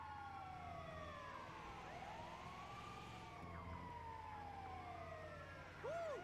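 An ambulance siren in Grand Theft Auto V wails, sweeping up and down over steady engine rumble, loud and continuous, with a brief yelp-like chirp near the end.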